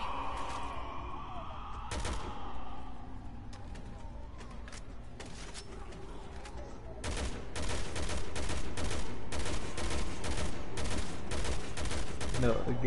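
Gunfire in the video game Resident Evil 6: scattered shots early on, then dense rapid bursts of automatic fire for the last several seconds, loud and close, with a voice talking over it.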